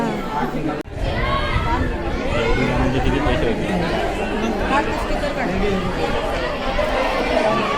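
Dense crowd chatter fills a busy waterpark ticket area, a steady babble of many overlapping voices close by, with a brief dip near the start.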